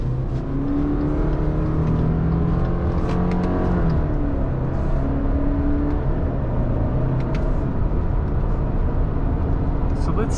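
A lifted 2021 Subaru Crosstrek Sport 2.5 heard from inside the cabin while driving and taking a turn, with a steady, loud engine and road drone that holds throughout.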